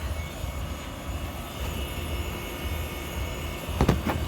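A Trane XE1000 heat pump compressor runs outdoors with a steady, loud low hum and broadband whoosh, followed by a couple of brief sharper knocks near the end.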